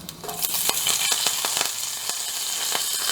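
Curry leaves spit and crackle in hot oil in a pan, a dense sizzling hiss with sharp popping bursts scattered throughout, close and fairly loud.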